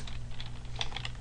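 Rapid, light keystrokes on a computer keyboard, a steady patter of close clicks over a low background hum.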